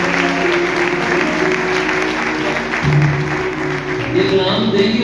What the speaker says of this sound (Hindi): आप तालियों से वेलकम करें।